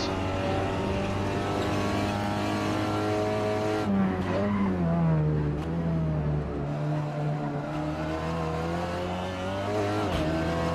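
A SEAT Leon TCR race car laps Brands Hatch in Assetto Corsa, its engine holding a loud, steady drone that drops and climbs through gear changes, with tire squeal under braking and cornering.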